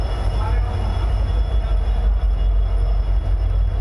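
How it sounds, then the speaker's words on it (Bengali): A passenger train pulls out of Alipurduar Junction with a continuous loud, low rumble of wheels and carriages, heard from on board. "ট্রেন আলিপুরদুয়ার জংশন থেকে এখন ছাড়লো।"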